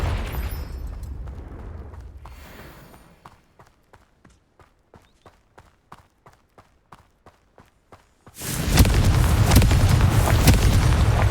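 A Confringo fire spell cast in the Hogwarts Legacy video game bursts loudly near the end, a sudden roaring blast after a steady run of light footsteps.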